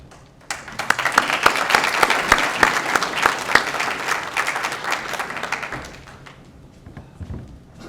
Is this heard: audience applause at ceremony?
yes